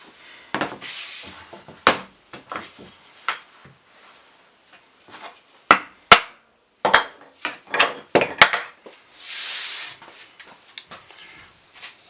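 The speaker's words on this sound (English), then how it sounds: "This pull saw makes pretty quick work of this, and it leaves a really, really clean edge." A pull saw cuts through wooden boards clamped down for a storage cabinet build, giving irregular bursts of close, dry rasping strokes with brief pauses between.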